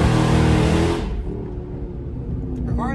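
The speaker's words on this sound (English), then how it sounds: "the car is extremely loud, by the way." A very loud, raspy 392 Hemi engine of a 2020 Dodge Charger Scat Pack Widebody with muffler delete roars close by as it accelerates, then drops to a lower rumbling idle after about a second.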